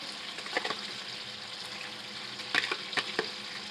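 Chicken karahi with crushed red chili and yogurt sizzles steadily in the pan, a continuous close frying hiss with a few brief clinks and stirring bumps scattered through it.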